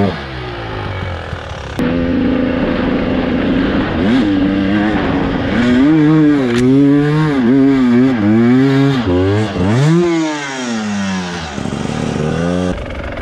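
A two-stroke dirt bike engine, KTM 300 TPI, Suzuki 250 or Irbis 250, revs hard while climbing a hill, pitch rising and falling in repeated throttle surges, loud and close.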